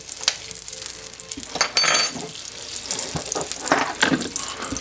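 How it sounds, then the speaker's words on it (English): Lard hits a hot pan and melts, crackling and sizzling in uneven bursts that swell and fade, fairly loud and close, with no talking. "Next, I'm going to put some lard. You can use oil, whatever you have, in my hot pan."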